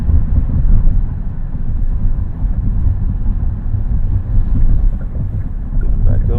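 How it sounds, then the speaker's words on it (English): Loud, constant low rumble of road noise inside a 2024 Kia EV9 electric SUV on the move, heavy in the bass with wind-like roar and no clear voices. "I'm thinking I'm just hearing a lot of road noise"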